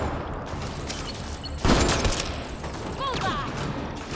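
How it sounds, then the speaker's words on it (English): A single sharp sniper rifle shot cracks loudly in Mass Effect: Andromeda, its crack trailing into echoing combat noise, followed by brief chirping vocal sounds. "Deploying sniper rifle."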